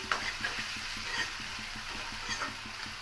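Onions and green chillies fry in a pan with a steady sizzle and soft stirring scrapes, a quiet continuous crackle close by with no one speaking.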